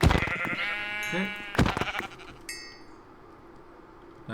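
Sheep bleat in the Sevtech Ages video game: a loud wavering bleat, a second sharp cry, then a brief higher game tone before fading to quiet background.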